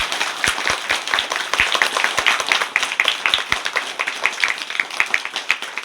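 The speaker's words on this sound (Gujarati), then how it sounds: "એકવાર જોરદાર તાળીઓ પાડીને આપણે સ્વાગત કરી" Schoolchildren and guests at a village school girls' education festival clap to welcome a guest, with many hands in a lively, fairly close burst of uneven claps that carries on steadily.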